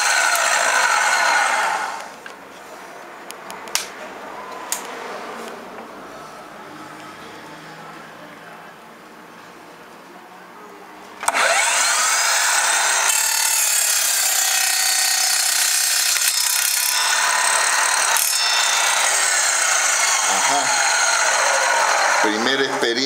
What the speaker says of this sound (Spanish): Aquí voy a cortar una.